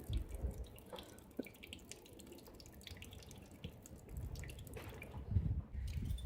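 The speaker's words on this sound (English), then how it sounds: "So only a little bit of water comes through that." Water trickles thinly from a camper faucet with the hot water tank turned on, a faint, uneven dribble and splash that continues on its own without talk.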